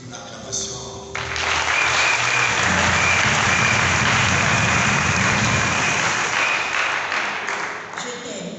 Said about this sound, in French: Une acclamation.